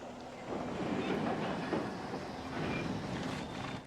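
A train rumbles through a train yard in the video game Alan Wake, a steady loud rolling clatter with faint wheel squeal that holds for several seconds before easing off.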